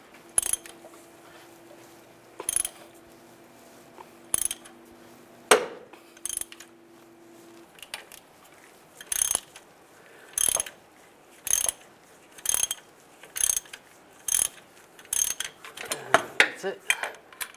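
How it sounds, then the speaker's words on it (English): A wrench ratchets on the crankshaft pulley bolt of a 2007-2013 Chevy Silverado during timing chain work, giving repeated close metallic clicking bursts at a steady rhythm with brief pauses between strokes. "I might need a wrench. I'll put a wrench on there."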